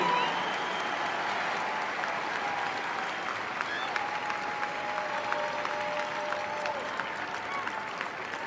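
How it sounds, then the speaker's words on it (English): A large crowd at an Ohio State Skull Session gathering before the Indiana game applauds loudly and steadily for about eight seconds, with a faint sustained tone running underneath. "Let's have a big round of applause for these outstanding representatives and ambassadors"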